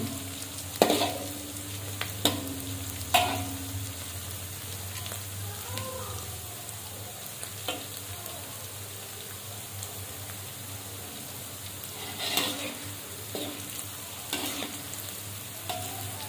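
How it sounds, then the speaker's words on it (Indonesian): Chili and other ingredients for sambal ati ampela sautéing in a pan, with a steady close sizzle broken by several sharp spatula scrapes and stirs, no voices. "Jadi ini kita tumis dulu sampai dia cukup layu ya teman-teman."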